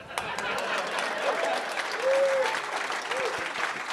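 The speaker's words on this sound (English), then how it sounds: "can we get a round of applause?" Audience applause at a live event, a moderate steady patter of many hands clapping with a few cheers or whoops rising above it, at medium distance.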